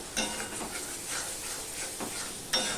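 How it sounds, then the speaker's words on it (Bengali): Masala spice paste sizzling and being stirred in oil in a pan while cooking a Bengali pabda fish curry, a steady soft hiss with a few scraping strokes of a spoon. "মশলাটাকে কষিয়ে নেব"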